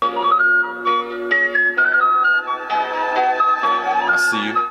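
A melodic whistle-like tone plays a short repeating riff over a steady hip-hop beat with sustained tonal layers, ending with a brief higher sweep.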